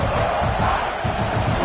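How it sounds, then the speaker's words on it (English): A football stadium crowd roars steadily during an Oregon scrimmage, a dense, loud wall of cheering and yelling that holds without a break for the whole moment. "Listen to this crowd just shaking the girders of this place, trying to help their defense."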